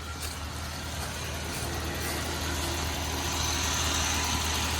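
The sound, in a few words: Dodge Ram 1500 engine idling roughly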